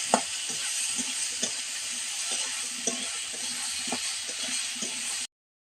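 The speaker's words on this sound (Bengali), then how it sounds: "এটাকে একটু লাল লাল করে ভেজে নেব" Eggplant fries in a pan with salt and turmeric, giving a continuous hissing sizzle. Light, evenly spaced stirring taps sound through it, close and moderately loud, and the sound cuts off abruptly at the end.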